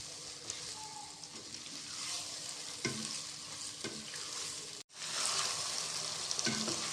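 Carrots frying in a pan for a few minutes, a continuous close sizzle broken by occasional spatula scrapes and a brief cut near the end, with no talk.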